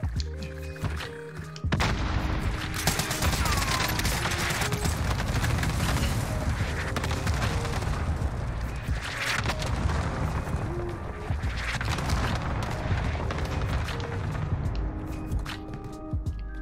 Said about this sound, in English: Enemy cluster strike incoming.